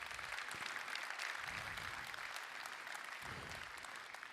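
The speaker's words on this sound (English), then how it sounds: "Give these guys a round of applause." A crowd at a basketball coaching clinic gives a round of applause, a sustained, dense patter of clapping hands that stays fairly even before tapering slightly, with a few low thumps underneath.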